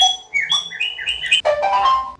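A smart bird feeder camera, the Vakiav VK-G1 PRO, plays a synthetic bird chirp during setup: a quick series of bright, whistled tweets rising and falling, then a brief closing trill, clear and close.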